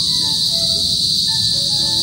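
Crickets trill by a river in the afternoon, a dense, constant high-pitched chirring that fills the whole stretch loudly and evenly, with faint chirps from other insects beneath and no voices.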